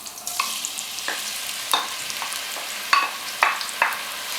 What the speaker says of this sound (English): I'm just adding the onions.